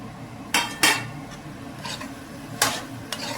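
Paneer being added to cooked masala in a cooking pan, with a few sharp close clinks of a spoon against the pan spaced over a few seconds above a low steady background.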